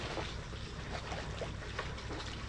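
Sailboat moving on calm water among islands south of Bergen, with a soft steady wash of water along the hull and light wind noise, close and continuous without talk.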